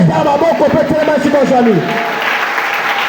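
Church congregation at a morning prayer gathering acclaiming with applause and cheers, a loud wash of clapping and shouting voices, with a sung or called voice over the first half.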